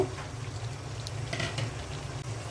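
A rohu fish head and tail fry with mung dal in a pan: low steady sizzling with faint bubbling and a few soft clinks, continuous and close, no voices.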